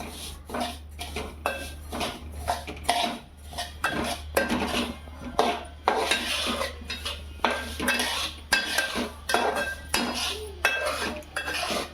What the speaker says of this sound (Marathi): आपल्याला असे ढवलत राहायचे आहे जोपर्यंत आपले तीळ चांगले असे मस्तपैकी भाजत नाही